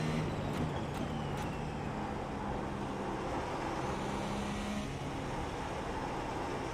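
A race car engine in iRacing drones faintly and steadily, with shifting engine tones and no voices.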